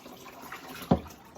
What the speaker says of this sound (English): I'm going to use my cup and get her fur wet